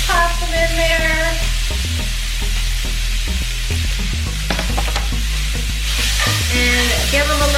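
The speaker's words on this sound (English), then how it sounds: "And we're gonna grab the onions. Toss them in there." Onions stirred in a hot pan for beef birria tacos, a steady sizzle with repeated scraping and clinking stir strokes close up, no voices.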